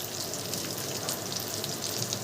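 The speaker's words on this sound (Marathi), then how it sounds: "इकडे मांदेली फ्राय होते अजून राहिलेली" Mandeli and bangda fish fry in a pan with a steady, dense sizzle and crackle, heard close and continuous with no talking.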